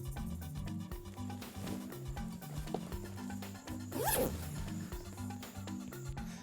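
A zipper being pulled open on a duffel bag, a sharp rasping burst midway over steady low background music with a faint dog bark.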